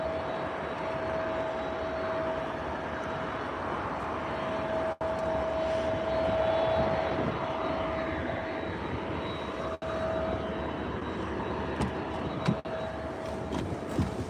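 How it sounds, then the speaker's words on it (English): A fixed-wing airplane passes low overhead on approach to land near a runway, its engine roar a steady, broad, loud drone that holds for the whole stretch with no talk over it. "Like a plane just landed, is taxiing off the runway, and another one about to land right now."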